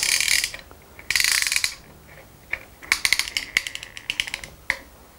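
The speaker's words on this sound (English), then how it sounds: "Fit the compressor over the top and wind it shut." Ratcheting clicks from a piston ring compressor being wound tight around a piston, in a few bursts of rapid metallic ticks separated by pauses, close up and with no voices.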